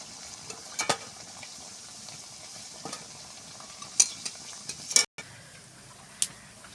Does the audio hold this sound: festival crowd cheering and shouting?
no